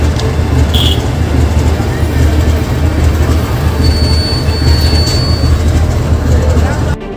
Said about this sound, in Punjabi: ਸੰਗਰੂਰ ਰੇਲਵੇ ਸਟੇਸ਼ਨ ਦੇ ਉੱਤੇ ਅਡਾਨੀ ਦੀਆਂ ਟ੍ਰੇਨਾਂ ਚੱਲ ਰਹੀਆਂ ਨੇ